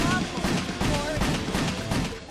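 Rapid, steady gunfire in the video game WET, a dense run of overlapping shots filling the short stretch at close range, with a voice speaking beneath it.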